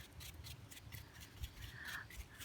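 Knife or scissors cutting away the tough part of a sulphur shelf mushroom, giving quiet, close crisp snips and rubbing in a steady rhythm with no talk.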